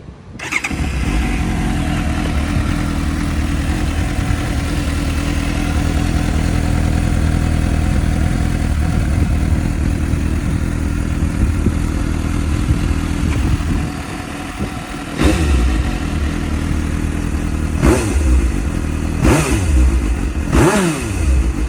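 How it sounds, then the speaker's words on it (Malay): A stock-exhaust 2017 Suzuki GSX-S750 motorcycle idles steadily and loudly close by, then gets several sharp throttle blips toward the end, each rev rising and falling quickly. "Hari ni kita nak test bunyi standard exhaust motor besar GSX S750"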